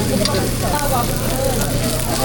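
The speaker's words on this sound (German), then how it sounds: "Da kommt da so eine Portion Reis drauf und dann wird angebraten." Rice with leftover meat and vegetables fried in a pan, a steady close sizzle and crackle, with voices talking over it.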